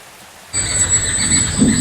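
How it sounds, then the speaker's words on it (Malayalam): Heavy rain starts abruptly and then pours down loudly and continuously, a dense, close hiss with no voices over it. "അപ്പോൾ എന്തായാലും നല്ല മഴയാണ്"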